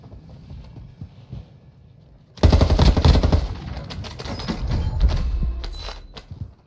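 Loud machine-gun fire in Warzone, shots ripping through a tarp in a sudden sustained burst that stays heavy and close for several seconds before tapering off.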